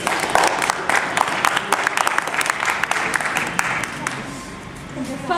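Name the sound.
audience clapping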